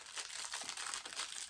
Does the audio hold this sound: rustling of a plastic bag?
yes